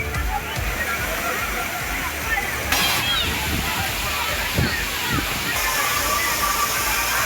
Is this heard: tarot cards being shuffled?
no